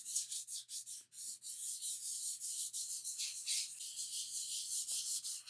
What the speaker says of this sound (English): we have to sand it with about 320 grit sandpaper